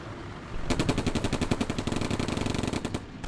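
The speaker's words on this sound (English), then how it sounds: "Could be some kind of sniper weapon or machine gun, high-powered machine gun." Sustained high-powered machine gun fire in the World War II strategy game Combat Mission: Barbarossa to Berlin, a fast, even stream of loud shots rattling for about two and a half seconds after a brief quiet start.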